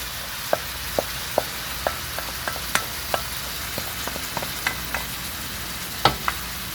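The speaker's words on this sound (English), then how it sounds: "Saute this a little bit" Vegetables sauté in a pan with a steady hiss of frying, broken by a regular run of sharp spoon clicks and taps against the pan, close and fairly quiet.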